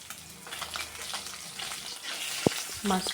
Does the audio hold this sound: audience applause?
no